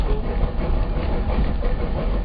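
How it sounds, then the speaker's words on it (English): A steam train at Glenbrook, New Zealand rumbles steadily close by, its low rhythmic chugging and clatter filling the whole stretch without pause. "And there's the chuffing I was waiting for."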